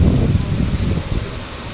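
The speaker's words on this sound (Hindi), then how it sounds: "भाई रावण दहन के टाइम पर ही इतनी तेज बारिश आ गई, देखो भयंकर।" Heavy rain pours in a dense, steady roar, with gusty wind pushing through and no voices, during a Dussehra Ravan Dahan festival outdoors.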